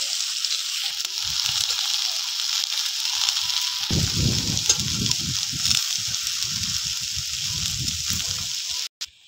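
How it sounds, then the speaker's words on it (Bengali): Hot oil hisses steadily with nigella seeds and green chillies, then chopped ridge gourd goes in and a louder, bubbling sizzle with popping bursts takes over, close and continuous. "ঝিঙেগুলো ঢেলে দিলাম।"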